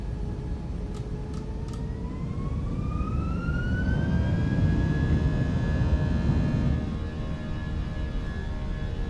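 Jet engines on a Fenix A319 airliner in a flight simulator spool up with a rising whine that climbs in pitch and then holds steady over a broad, loud roar.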